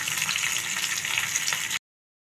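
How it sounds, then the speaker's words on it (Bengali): A katla fish head fries in hot oil, giving a dense, bright sizzle that holds steady and loud for under two seconds, then cuts off sharply. "এখানে আমি মাছের মাথাটা ভেজে নিচ্ছি"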